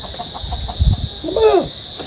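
A chicken gives a short, rising cluck-like call over steady background hum, with a few soft scuffling sounds just before it, during feeding.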